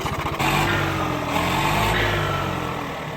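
A Swaraj 855 tractor fitted with a Russian turbo runs loud and close, its engine roaring steadily with a high turbo whistle sitting on top throughout.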